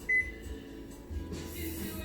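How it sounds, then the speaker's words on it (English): A kitchen timer being set gives a single short, clear beep near the start, followed by faint kitchen room tone. "I'm gonna set my timer for what?"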